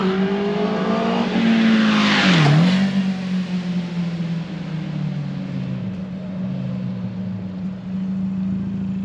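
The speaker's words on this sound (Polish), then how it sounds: "tak sobie ładnie wydech pyrka na wolnych obrotach" A Kia ProCeed GT 2022 with the 1.6 T-GDI engine and 7-speed DCT sits at idle, its exhaust giving a steady low burble after a brief blip near the start, close and alone with no talk.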